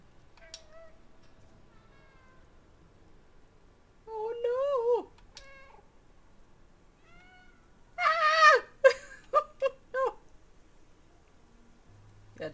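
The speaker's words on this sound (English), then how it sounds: "I'm gonna call this cat Jonesy." A cat in the video game Stray meows now and then over quiet game ambience, first with single soft mews and then with a cluster of louder, close meows in quick succession.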